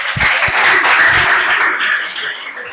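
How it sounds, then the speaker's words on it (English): Schoolchildren at an anti-drug campaign gathering break into a burst of group clapping, steady and fairly loud, with a few sharp nearby claps early and a gradual fade toward the end. "Very good. Clap for yourself."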